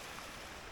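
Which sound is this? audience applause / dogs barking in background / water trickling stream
water trickling stream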